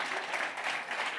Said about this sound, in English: please give our representatives of National Treasury a round of applause